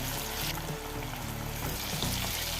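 Chicken pieces sizzle steadily in hot oil in a kadai over a gas flame, with curry leaves added, a close, continuous crackling fry with no talking.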